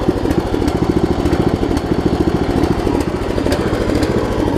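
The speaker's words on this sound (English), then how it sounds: "Let y'all hear this Vanguard for a minute." A Briggs & Stratton Vanguard engine on a roughly 30-year-old Murray riding mower idles with a loud, steady, throbbing rumble. The idle stumbles slightly, and the engine is close and heard alone.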